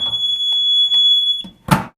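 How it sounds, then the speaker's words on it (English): An AED wall cabinet alarm sounds as its door is pulled open, a loud, steady high-pitched tone, then a sharp bang from the door near the end. "Oftentimes there will be a loud alarm associated with it."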